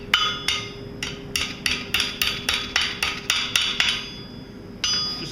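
A hammer rings in a steady series of sharp strikes on an anvil while forging a hand-made dragon's foot, about a dozen close, bright metallic blows with a short pause before a final hit.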